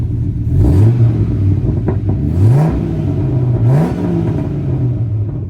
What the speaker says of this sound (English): the exhaust note is just hateful on this truck